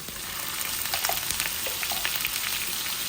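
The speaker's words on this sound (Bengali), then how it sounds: "এই যে লাল হয়ে যাচ্ছে, আমি পেঁয়াজ দিচ্ছি" Onions fry in hot oil for a Bengali tengra fish bhuna, producing a loud, dense, continuous sizzle with scattered crackles and pops close by and no talking.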